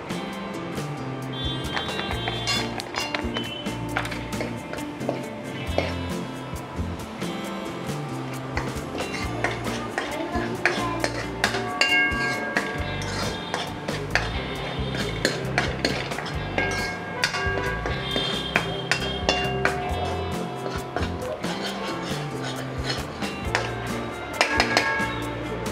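Masala for Satara-style misal being stirred and fried in a pan, a steady close sizzle with continuous scraping and clinking of a spoon against the pan throughout, loud and unbroken, with no talking.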